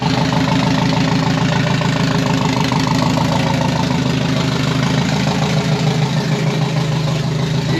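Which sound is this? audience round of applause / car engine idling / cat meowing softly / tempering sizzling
car engine idling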